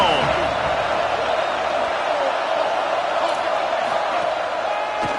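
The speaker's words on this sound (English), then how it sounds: "This crowd ready to make its presence known." Stadium crowd noise from the College Football 27 video game forms a steady, dense roar with faint whoops, filling the scene at an even level throughout.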